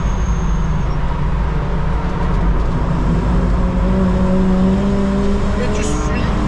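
A BMW rental car at full throttle on the Nürburgring gives a loud, sustained engine drone with rising tonal harmonics. It sits over heavy cabin and road rumble, steady throughout, with a passenger voice heard in the car.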